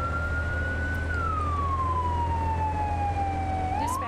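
Emergency vehicle sirens in a firefighting simulator video game, a loud close wailing tone sliding slowly downward then rising again over a steady low engine rumble, with no speech.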